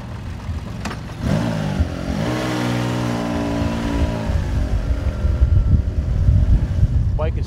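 A 1981 Honda CBX1100 motorcycle starts up and idles with a steady multi-cylinder drone, then revs rise and grow rougher and louder as it pulls away, close to the listener.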